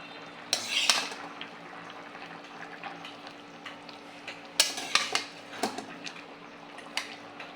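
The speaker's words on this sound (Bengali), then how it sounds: "এই যে ভাজা পাঙাশ মাছটা ওতে দিয়ে দেব" Fried pangas fish going into a pot of pumpkin curry, with a few clanks and scrapes of utensils against the pot over a soft simmer, close and otherwise quiet.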